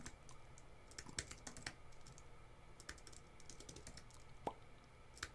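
Quiet, irregular keystrokes on a computer keyboard, scattered soft clicks with brief pauses, heard close and alone with no talking.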